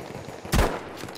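A single sharp sniper shot in Battlefield V, a close, loud crack with a short booming tail over a low background of game ambience.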